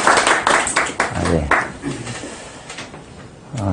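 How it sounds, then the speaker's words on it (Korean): Scattered claps from an audience welcoming a lecturer at a talk on yin-yang and the five elements, a few loud close claps mixed with speech and room noise. "자, 박수로 부탁드리겠습니다."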